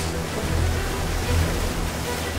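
Sea waves break on the shore at a kayak launch point, a steady broadband wash that swells twice as the surf rolls in. It sounds close and fairly loud, with no voices.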